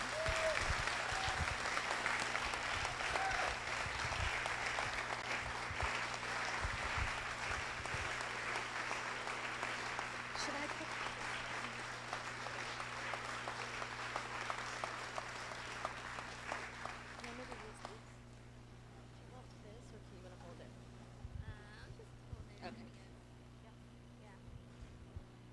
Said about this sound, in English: Please give a round of applause for Blanca Perez.